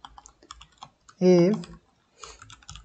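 Code is typed on a computer keyboard in light, irregular clicks, broken briefly by a short burst of voice in the middle.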